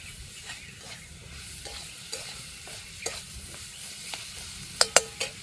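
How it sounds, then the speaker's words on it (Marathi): Onion, tomato, garlic and masala with turmeric and salt being sautéed in a pan outdoors at a field's edge: a steady soft sizzle under repeated spatula scrapes, with a few sharper clinks near the end. "तर आपण सगळं आहे ना चांगलंसं परतून घेऊया."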